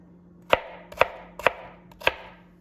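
A knife chopping a potato on a cutting board for potato soup, four sharp close thuds spaced about half a second apart in a steady rhythm, with no voices.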